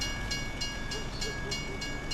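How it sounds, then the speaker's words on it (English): A train rolls past in Farming Simulator 25, a steady rumbling rail noise with a faint, regular clickety-clack rhythm and a thin tonal hum, heard at moderate distance without talk. "And of course we get behind a choo-choo train."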